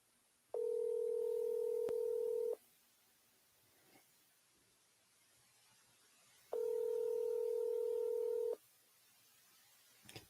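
Two steady telephone call tones, each about two seconds long, come through a phone line while a number is dialed, separated by several seconds of near silence.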